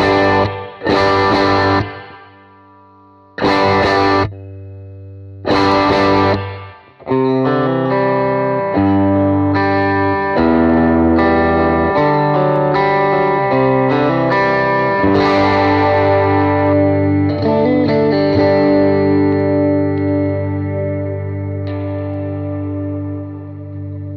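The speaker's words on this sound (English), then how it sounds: "So I have like your basic plate reverb, I believe." Electric guitar played through a praise-and-worship pedalboard with a reverb pedal on a basic plate setting: a few loud strummed chords with gaps, then sustained ringing chords with a lush, washy reverb tail, no talking.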